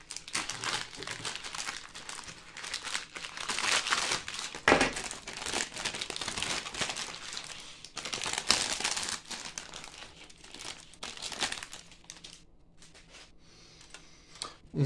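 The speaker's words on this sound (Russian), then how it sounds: "Для этого вскрываем пакет." Plastic packaging of a ZVEZDA plastic model kit is torn open and handled, giving close, continuous crinkling and crackling that runs for most of the stretch before tapering off near the end.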